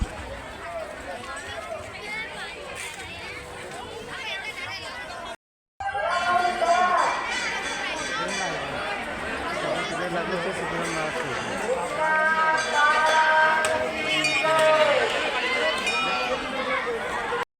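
Dense crowd at the Shri Sopinath Maharaj temple fair in Digras, a steady wash of chatter, footsteps and bustle close around, with a brief dropout near the start and bright ringing tones rising through the noise later on.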